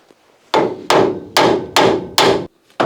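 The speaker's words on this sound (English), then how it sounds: "using a hammer just to lock it in place" Six sharp, loud hammer blows ring out at a steady rhythm, bending a metal part to lock it in place on a Citroën AZU engine, each strike decaying quickly before the next.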